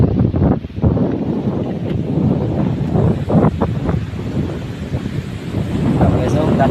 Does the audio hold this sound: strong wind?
yes